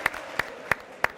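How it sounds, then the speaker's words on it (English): Four sharp, evenly spaced hand claps, each about a third of a second apart, close and fairly loud, with no crowd around them. They come during a live Sevilla vs FC Barcelona La Liga watch stream, in salute of the Brau family's La Liga debut. "Let's clap it up for the Brau family making a La Liga debut."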